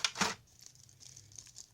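A small plastic protective bag crinkles while a Tamashii Stage Act figure stand is unboxed, with a couple of sharp rustles at first, then faint scattered crackles, quiet and close.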